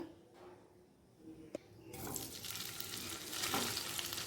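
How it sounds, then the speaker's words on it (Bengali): Paneer frying in ghee and white oil in a pan for a sandwich filling, a faint quiet crackle at first that swells after a sharp clink into a steady bright sizzle. "পনিরটাকে ভেজে নেব একই সাথে দিয়ে দিচ্ছি ঘি দু চামচ ঘি দিয়ে দিলাম"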